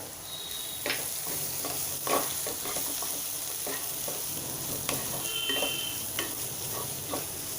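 Spices sizzle in a pan as turmeric, hing, cumin powder, coriander powder and black masala are sautéed for sprouted green moong, with a constant frying hiss and intermittent stirring scrapes and taps.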